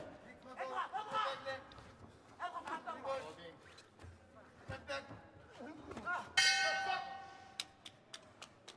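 A boxing ring bell clangs loudly at the end of a round at a youth world boxing championship, its bright ringing tone sustained and decaying over several seconds after a commentator's voice, with crowd noise underneath.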